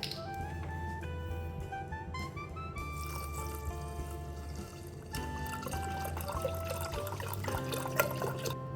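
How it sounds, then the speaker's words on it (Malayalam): Milk poured into a pot for millet payasam, a soft continuous trickle whose pitch rises as the pot fills, heard close and with no talking. "ഇനി നമ്മൾ ഈ പാല് ഇതിലോട്ട് ഒഴിച്ചു കൊടുക്കാവേ"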